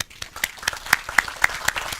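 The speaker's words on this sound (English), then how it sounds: "Please join me in a round of applause." A few scattered claps from a seminar audience at a theater session thanking its speakers, sparse, uneven handclaps about four per second, fairly near and moderately quiet, with no talk over them.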